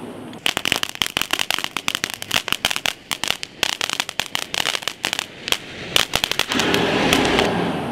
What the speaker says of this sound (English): now we're going to light off a small ground shower fireworks